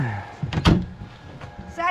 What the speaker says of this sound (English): You just shut the door and it fell.